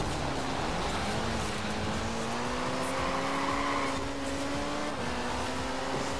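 A car's engine drones steadily as it drives and slides over snow in the Forza Horizon 4 racing game, with a continuous mid-pitched motor note rising slightly and wavering throughout.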